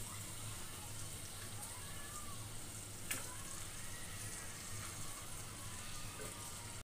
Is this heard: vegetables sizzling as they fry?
yes